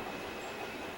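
A subway train arriving at East 180th Street station on the middle track in a train simulator game, its wheels rumbling and faintly squealing as it rolls along, steady and close, with no voices.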